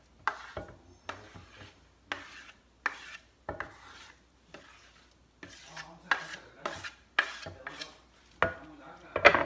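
Chopped tomato, cilantro and onion folded into shrimp for tostadas, giving a series of close, wet scraping and rubbing strokes against a bowl, repeated every second or so with short pauses between.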